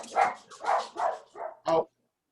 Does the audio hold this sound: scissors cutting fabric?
no